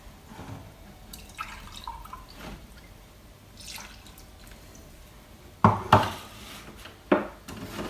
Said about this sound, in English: I'm just going to pour 1 in and then stir it